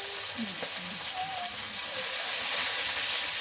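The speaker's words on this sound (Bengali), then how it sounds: "এখন একটু তেল দিয়ে দিই যে টাকি মাছ নিয়ে নিছি টাকি মাছটা এর মধ্যে দিয়েছি" Taki fish sizzles in hot oil with garlic and chili, giving a steady, loud frying hiss that runs unbroken for a few seconds.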